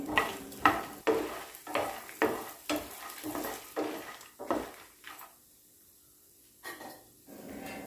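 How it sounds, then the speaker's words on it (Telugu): Coriander seeds roasting in a pan are stirred in quick, even scraping strokes, about two per second, close and clear, then a brief pause and a couple more strokes. "ఈ ధనియాలు కూడా వేసుకొని వేగేదాకా కలుపుతూ ఉండాలి"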